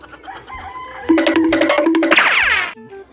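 Close, loud chicken sounds: a few clucks, then a rooster crowing in a long drawn-out call, with other fowl calling briefly afterward.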